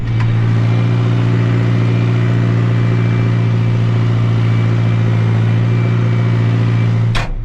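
A Massey Ferguson MF 5430 tractor engine runs out in a field, pulling an 11-tine chisel plough, with a loud, deep, steady diesel drone close by and a short click right at the end.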